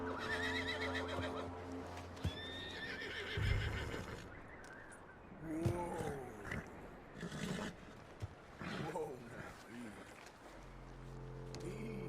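A horse in Red Dead Redemption 2 lets out several sharp neighs and whinnies amid game ambience and occasional thuds, with voices talking at points.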